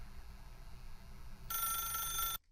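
Telephone in The Stanley Parable video game rings with a bright, buzzing electronic tone for about a second after a low ambient hum, then cuts off abruptly.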